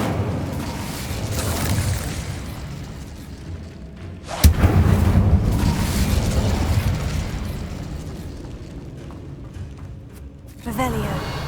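A spell bursts into flame in Hogwarts Legacy, a sudden loud whoosh-boom followed by a sustained fiery roar that slowly fades, with a second smaller burst near the end over game ambience.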